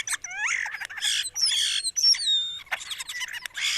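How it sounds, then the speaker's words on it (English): European starlings vocalize in a busy, dissonant jumble of whistles, squawks, rising and falling slurs and clicks, loud and close, with short gaps between bursts and no voices. "So European starling vocalizations are considered dissonant."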